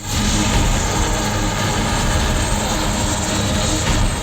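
A helicopter flies during a flood evacuation with a loud, steady rotor and engine roar that holds constant throughout, with no voices.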